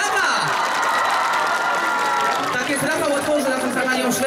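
Festival crowd at an outdoor summer concert in Zamość applauds and cheers loudly, with dense clapping, shouts and children's voices throughout and a rising cheer near the end.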